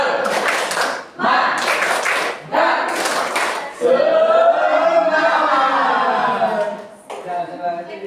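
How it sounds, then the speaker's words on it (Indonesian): A classroom doing a rhythmic spirit clap, bursts of group clapping in short patterned bursts separated by brief pauses, followed by children chanting together in a loud, close room. "Ayo tepuk semangat dulu ya. Tepuk semangat."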